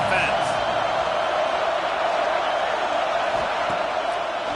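Stadium crowd in the College Football 26 video game, a steady, loud, dense roar of massed voices sustained without a break.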